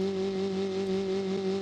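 A car in the BeamNG driving game, shaped like a first-generation VW Golf, launches with a steady droning engine tone that rises and falls slightly in a continuous hum, with no voices over it.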